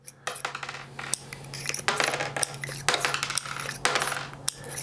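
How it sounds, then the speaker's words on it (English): Metal cartridges clatter as they are pushed out of a Barkeep Boot revolver and drop, with a quick run of sharp clinks and jingles, close up and with no talking. "we'll go ahead and pop these rounds out of there"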